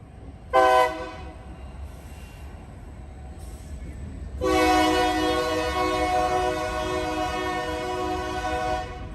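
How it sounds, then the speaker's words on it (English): A loud train horn gives one short blast, then a long sustained blare that holds for several seconds, close by. "Like a train horn"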